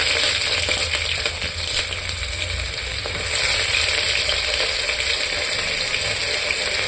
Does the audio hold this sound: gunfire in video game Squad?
no